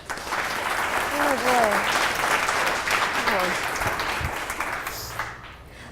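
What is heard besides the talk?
audience applause for a speaker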